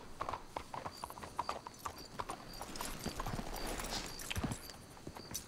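Horse hooves clip-clop unevenly at a walk in the Red Dead Redemption 2 video game, faint and close together, with soft ambient game noise beneath and a brief low rumble.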